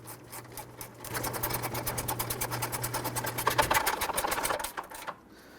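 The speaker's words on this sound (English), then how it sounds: "I'm going to tighten down the 4 big bolts first" A ratchet wrench clicks in a fast, steady run while tightening the big bolts on the 3.5L V6 engine of a 2006–2012 Toyota RAV4 during a crankshaft position sensor replacement, close and loud, with a faint low hum beneath it.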